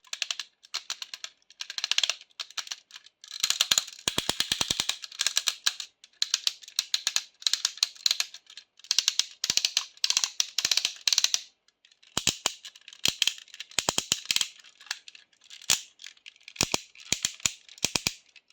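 Rapid plastic clicks and ratcheting snaps from a Transformers Cyclonus figure's ratchet knee joints come in irregular bursts, sharp and close, as the joints are moved repeatedly with brief pauses between.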